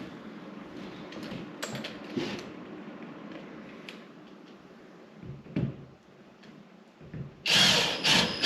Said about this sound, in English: we're just lagging our last bolts in